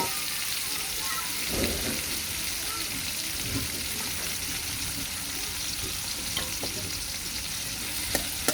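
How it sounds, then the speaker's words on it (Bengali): Chopped onion, green chili and crushed garlic frying in hot oil, a steady close sizzle with occasional stirring scrapes and soft clicks of a utensil. "একটু নাড়াচাড়া করে পেঁয়াজ, কাঁচামরিচ এবং রসুনটা একটু লাল লাল করে ভেজে নেব"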